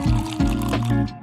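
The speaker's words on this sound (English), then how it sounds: "Then empty your cup." Liquid from an emptied menstrual cup splashes and pours close by in a brief, continuous gurgling stream.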